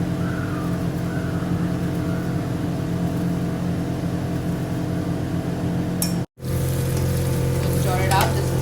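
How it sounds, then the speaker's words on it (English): Green mutton pulav frying in a pan, a steady close sizzle and hiss that stays loud throughout, broken by a brief pause near the end, with faint stirring scrapes and no talking. "So leave it and let it fry some more."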